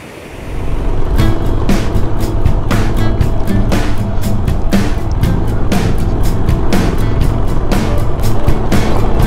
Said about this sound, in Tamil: ஜம்முன்னு போயிட்டுருக்குங்க வண்டி